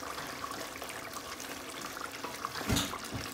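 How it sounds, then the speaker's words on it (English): Lentils for a Bengali fish head curry bubble in a pot over high heat, a soft continuous simmering and popping with one louder splash near the end, faint and close. "The lentils are bubbling away beautifully."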